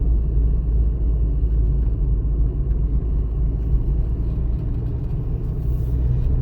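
Steady low engine rumble and road noise from inside a car with a manual gearbox cruising at 40 km/h in third gear, loud and even throughout.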